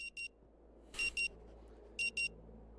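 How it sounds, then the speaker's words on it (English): A century-old alarm clock rings in the Rue Valley video game, with sharp electronic beeps in quick pairs that repeat three times at a steady pace and stand clearly above a low hum. "So the alarm going off at 8 p.m."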